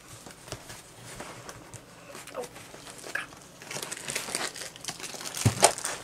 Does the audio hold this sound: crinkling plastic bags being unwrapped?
yes